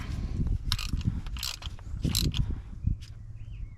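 A ratchet clicks in short bursts while tightening spark plugs on a Triumph Spitfire 1500, the close, crisp pawl ticks coming in several quick strokes with no talk.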